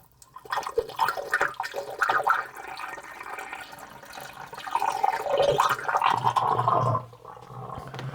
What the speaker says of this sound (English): Now we can drain that out. Okay, and then we'll rinse it down.